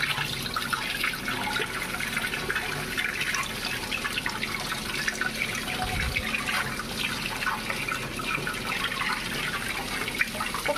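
A freshly caught fish is rinsed under a running kitchen tap, with a steady, close rush of water splashing continuously and no voices.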